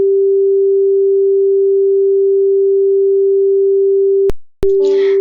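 A steady pure sine test tone, pitched one octave above the previous tone, holds at constant level for over four seconds before a short break, then resumes briefly under a faint breathy voice.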